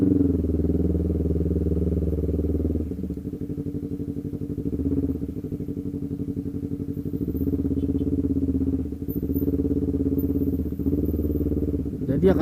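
A Honda CBR250RR motorcycle engine idles steadily as it warms up, a close, even, throbbing rumble that runs the whole time and dips slightly in pitch after the first few seconds.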